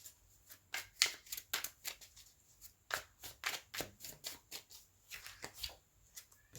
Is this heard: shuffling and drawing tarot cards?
yes